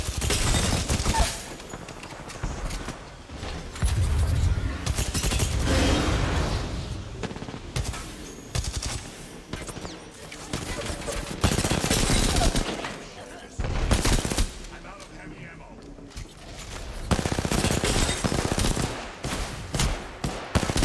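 Bursts of rapid automatic gunfire and single shots ring out in a fight in Apex Legends, coming in long volleys with short gaps, while a player talks over parts of it.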